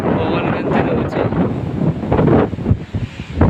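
Strong wind gusts roar through an evening rainstorm, a loud, continuous buffeting rush close to the microphone that swells and dips over a few seconds.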